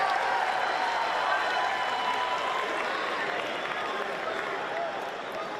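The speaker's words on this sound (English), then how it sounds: "That was a 3-syllable Angelo chant." A wrestling crowd at the Angelo Nationals 2025 chants a three-syllable chant in support of a Cortland wrestler, heard as a loud, sustained, broad roar of many voices that fades slightly toward the end.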